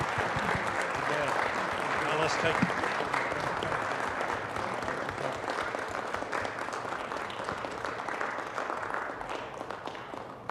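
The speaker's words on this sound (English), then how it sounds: "Let's give him a big round of applause." A city council chamber audience applauds a retiring City Planning Commissioner from Lawton, with steady, dense clapping that runs throughout and a voice speaking briefly over it near the end.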